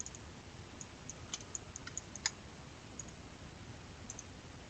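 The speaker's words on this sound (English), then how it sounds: "Using right click for enter." Computer mouse clicks used to confirm commands while building surfaces in 3D modeling software, several light, sharp clicks spaced irregularly over a steady background hiss, quiet and close with no talking.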